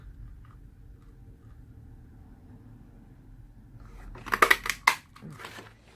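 A paper punch cuts out a stamped Santa shape, giving a quick cluster of sharp crunching snaps near the end after a quiet stretch of faint background rustle.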